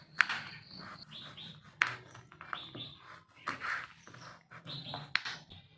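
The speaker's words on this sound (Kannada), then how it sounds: "ನಮ್ಮ ಮನೆ ಹತ್ರ ಗಿಡ ಇರೋದ್ರಿಂದ ಪಕ್ಷಿಗಳ ಸೌಂಡ್ ಕೇಳಿಸ್ತಾ ಇದೆ." Birds chirp in a tree beside a house, bright short calls and trills scattered irregularly at moderate distance, with no voices over them.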